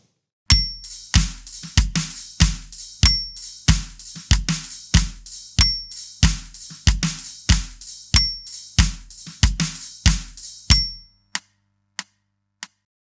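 Drum kit playing a bridge groove with snare accents and a ghost note at 94 BPM: steady close hits with a ringing cymbal tone, ending in a few isolated strokes.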